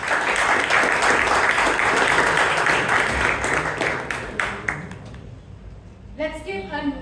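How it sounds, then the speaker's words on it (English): Applause from a Toastmasters club meeting audience for the table topic speakers, dense steady clapping that fades out near the end, with some talk underneath. "Let's give another round of applause to all the table topic speakers who came on stage."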